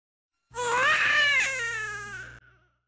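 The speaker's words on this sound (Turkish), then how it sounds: "Bir ağlama sesi doldurdu duvarları." A newborn baby cries in a single loud, wailing burst just after birth inside a traditional house, close and alone, then fading out.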